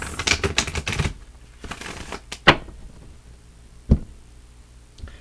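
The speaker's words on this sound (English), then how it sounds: "I'm shuffling them again in front of you" Rapid papery riffling of oracle cards being shuffled for about a second, then a few isolated taps and knocks as cards are set down, close and fairly loud.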